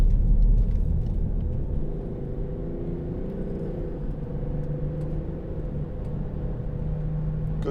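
2009 BMW X6 xDrive30d with a 3.0 diesel engine accelerating on the road, heard from inside as a steady low engine drone and road rumble with rising tones, loudest at the start.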